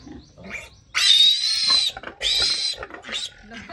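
A pig squeals loudly in two long, high-pitched bursts, with shorter grunting cries around them and people talking in the background.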